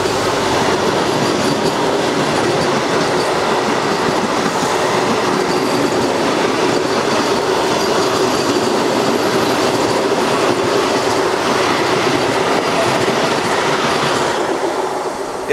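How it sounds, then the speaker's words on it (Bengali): The NJP–Howrah Vande Bharat Express rushes past a halted train, producing a loud, steady roar of wheels and rail clatter that holds at full strength for the whole passage with no voices. "আমাদের দাঁড় করিয়ে বন্দে ভারত পাস করিয়ে দিল।"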